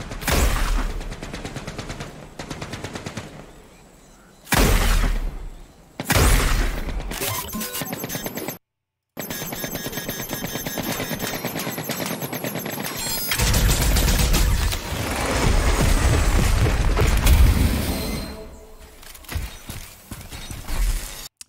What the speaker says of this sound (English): So we start with a nice explosion here.